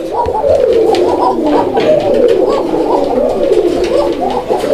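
A pigeon of a very vocal breed coos loudly and continuously, its throaty, rolling calls close by with no pause.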